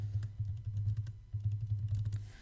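Fingers type a plant search query on a computer keyboard, a quick, uneven run of close, soft key clicks with short pauses between bursts.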